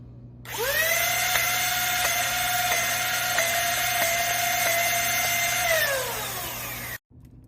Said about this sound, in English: Shooting the included darts.